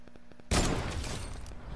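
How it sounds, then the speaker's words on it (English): A sudden burst of gunfire erupts in a video game sniper match, breaking in loudly after a short quiet stretch and then trailing off in a crackling rumble. "he's shooting at you"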